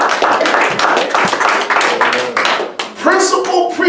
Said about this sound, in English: I'll be clapping amen.